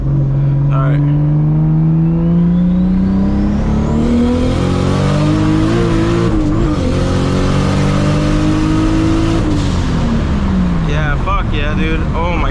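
A high-revving straight-piped Toyota Supra engine accelerates hard, pitch climbing steadily through gear shifts, loud and close, with excited voices exclaiming near the end.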